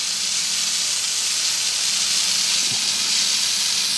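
Carb intake cleaner sprays from an aerosol can into a 1998 Johnson 30 hp outboard motor, a steady, close, loud hiss that runs unbroken throughout.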